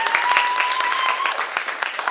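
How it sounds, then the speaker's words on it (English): Audience applause at a poetry reading, a brief burst of dense clapping that stays steady and fairly loud throughout, with a faint tone running beneath it. "Clap for her."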